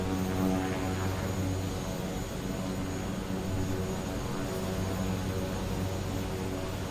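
A Kodiak 100 turboprop aircraft engine runs steadily and loudly, a continuous droning roar with tonal harmonics and broadband hiss, sustained without break and with no voices.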